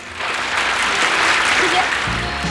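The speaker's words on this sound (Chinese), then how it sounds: "好，来，我们掌声一块儿，菲菲。" Applause from a studio audience at a variety show swells into a dense, sustained clapping that holds steady for a couple of seconds before easing off.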